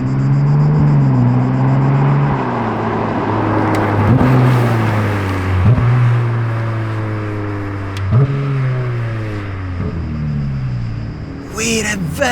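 A Ferrari Speciale sweeps past, its engine note rising and falling through several revving gear changes as it draws near and then fades, with a person talking excitedly over the rumble.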